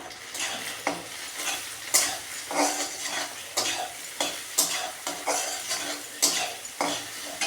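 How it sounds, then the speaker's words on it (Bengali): Boiled Maggi noodles are stirred and fried in a pan, with a loud, close sizzle and a regular rhythm of utensil scrapes and clacks against the metal roughly every half second, with no talking. "এর মধ্যে আমি ম্যাগিগুলো ওই যে সিদ্ধ করে রেখেছি এগুলো এখন ভেজে নিব"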